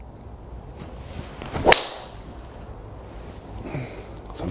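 Cobra King F9 SpeedBack composite driver striking a golf ball, a single sharp muted crack partway through, set against a quiet indoor hum.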